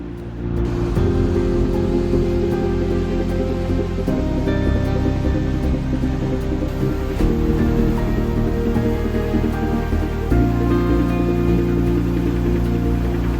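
The Iguaçu Falls, a chain of 275 waterfalls on the Brazil–Argentina border, roar with a loud, dense, unbroken rush of falling water, with music playing over it.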